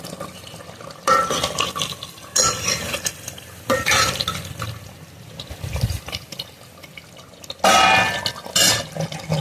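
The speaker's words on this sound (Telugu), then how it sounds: "ఒకసారి కలుపుదాం." A spoon stirring a pot of spicy chicken curry with tender leg pieces, repeated scraping and sloshing strokes over a faint simmer, close and fairly loud with no talking.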